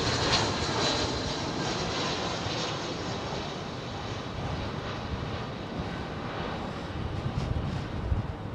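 An Airbus A320 jet at London Heathrow gives a steady, broadband engine roar that holds at a fairly even level throughout, with no voices over it.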